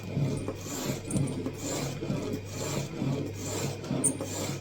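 Single bevel broadhead, a 125 grain Cutthroat with a rolled, dull edge, rasping against an abrasive in steady rhythmic back-and-forth strokes, close and continuous with no talking.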